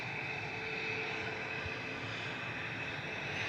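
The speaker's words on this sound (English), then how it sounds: "The prop just landed in the background." A propeller aircraft lands in the background at Manchester Airport, heard as a faint, steady, distant engine drone with a low hum, with no voices.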